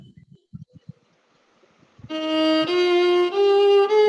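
After a couple of seconds of soft taps and faint shuffling, a violin enters with clear sustained bowed notes stepping upward through an Indian scale, loud and close.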